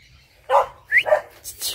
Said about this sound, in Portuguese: Olha o cachorro